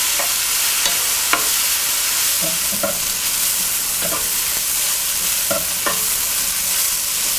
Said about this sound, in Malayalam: ഇതുപോലെ ഇളക്കിക്കൊണ്ടേയിരിക്കണം. സവോള നന്നായിട്ട് വഴലണം.